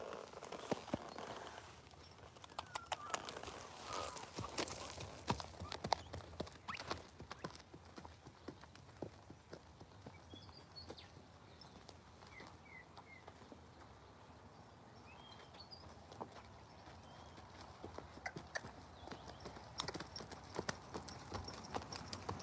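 A horse named Szara walks under a rider, her hooves clip-clopping steadily and fairly close throughout, with faint birds and light rustling in the background.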